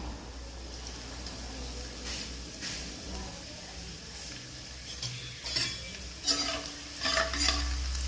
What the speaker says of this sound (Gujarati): લસણને થોડુંક બ્રાઉન થવા દેજો।